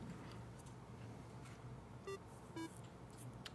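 Two short electronic beeps from a chess clock sound in quick succession, faint and clean over a quiet room hum.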